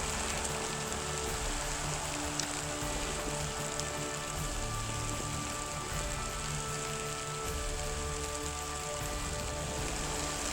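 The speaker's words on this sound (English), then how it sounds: "The wind's kicking up, it's raining." Steady rain falling at a lakeside camp on a windy day, a dense constant hiss of drops on surfaces with low rumbling wind beneath, unbroken for the whole stretch and no voices.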